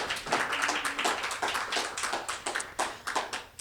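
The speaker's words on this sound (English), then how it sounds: "let's give them a round of applause for being here" A crowd applauds continuously, many hands clapping in a dense, steady patter at moderate volume, with no voices standing out.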